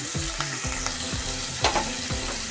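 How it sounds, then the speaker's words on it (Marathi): Ground masala and chillies fry in hot oil for a fish curry, with a dense, constant sizzle and repeated rhythmic scraping of a spoon across the pan, close and steady. "तर हे सर्व मी टाकून याच्यात चांगलं तळून घेणार बघा वाटलेला मसाला टाकून घेतला मी"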